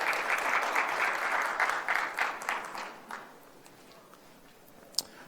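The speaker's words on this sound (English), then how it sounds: "These are the people you're clapping for." Audience applause at a conference talk, a full round of clapping that fades over about three seconds into quiet room tone with one sharp tap near the end.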